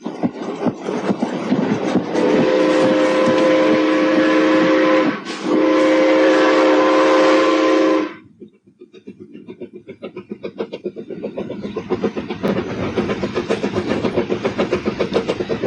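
Loud steam train: a sustained whistle blast broken by a brief gap and then resumed, followed by the rhythmic chuffing of the steam engine building into a steady pulse, with no voices.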